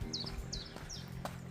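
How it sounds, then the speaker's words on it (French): Small birds chirp in short repeated bursts at a moderate distance, three or four quick calls spread over a low steady outdoor background on a spring morning near a coastal campsite. "Petits oiseaux qui chantent aussi."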